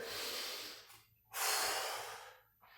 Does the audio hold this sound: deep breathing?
yes